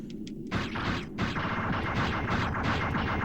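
A rampaging Reaver bot in Megaman Legends fires off its arms in a rapid burst of repeated shots, loud and close, with a few sharp blasts at the start and dense fire after, no voices.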